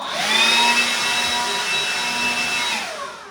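A steady, loud motorized whine with a high electric tone from a DeWalt 20V cordless leaf blower, running continuously and winding down at the end.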